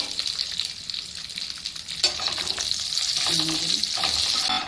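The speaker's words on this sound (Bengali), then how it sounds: "একটু কাজু আর কিশমিশও দিয়ে দিলাম" Cashews and raisins frying in oil in a pan, with a steady bright sizzle throughout, a sharp clink of a utensil partway through and continuous stirring underneath. No one speaks.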